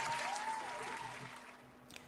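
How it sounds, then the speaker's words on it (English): Applause sound effect, faint and gradually fading, a thinning wash of clapping trailing off toward the end. "Round of applause."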